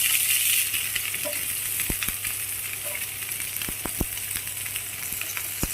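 Onions added to a hot pan of frying carrots and green chillies for Hakka noodles give off a steady, close sizzle with scattered sharp clicks and taps throughout.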